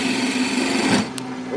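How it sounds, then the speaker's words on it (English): Wood turning on a lathe with a spindle gouge while shaping a miniature birdhouse, a steady close-up whir and hum with a slight scraping texture that holds throughout. "Spindle gouge activated. That's what we're using is the spindle gouge."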